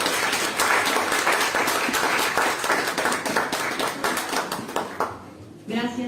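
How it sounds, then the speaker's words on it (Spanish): A live audience at a fantasy-fiction panel applauds to welcome the guests: dense, fairly loud clapping for about five seconds that thins out and fades, then a voice starts speaking. "les pido un aplauso para recibirlos y comenzamos"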